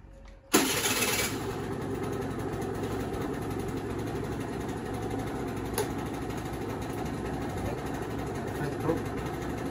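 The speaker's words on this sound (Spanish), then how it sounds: "Y para eso hay que arrancar la moto." An Aprilia SR 50 Motard moped engine kicks into life with a sudden start, then settles into a steady, buzzy idle that runs on close by, with brief voices now and then.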